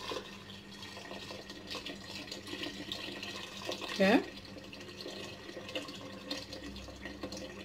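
Boiling water poured from a kettle over fried courgette and vegetables in a soup pot, a short splashing pour midway through amid kitchen noise while someone talks throughout.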